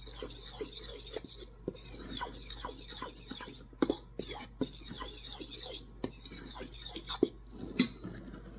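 A fork stirs pancake batter in a bowl, giving quiet, continuous scraping and clinking strokes, with occasional sharper taps of metal against the bowl.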